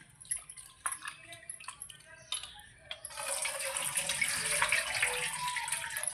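Fish pieces being washed by hand under a running tap, with scattered splashes and handling at first, then a steady, close gush of water that continues to the end.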